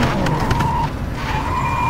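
Opel Commodore race car in the game RACE 07 at the Adria GP circuit, braking hard with a steady engine roar and a tire squeal that breaks off midway and then resumes.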